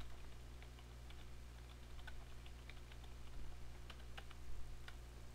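Soft, quick clicks of typing on a computer keyboard come in short irregular bursts, faint against a low steady hum, with no voices.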